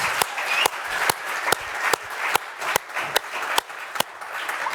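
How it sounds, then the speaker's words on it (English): A round of applause from an audience at a startup demo day, with clapping throughout and sharp, louder individual claps standing out at regular intervals. "So a big round of applause for what we've heard."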